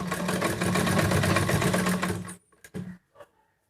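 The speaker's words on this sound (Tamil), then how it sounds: "தையல் போட்டுக்கலாம்." An electric sewing machine stitching a cloth face mask runs in a steady rapid whirring chatter for about two seconds, then stops, followed by a few short clunks and faint handling noises.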